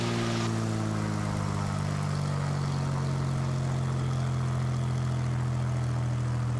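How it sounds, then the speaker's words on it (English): Propeller airplane taxiing toward the end of a runway for soft field practice, a loud, steady droning engine with a strong low harmonic hum that continues unbroken throughout, with no talking. "let's taxi down to the end of the runway"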